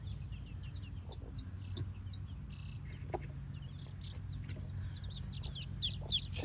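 Broody hens on pasture clucking softly, with scattered short calls and chirps over a low steady rumble of background noise, at moderate distance.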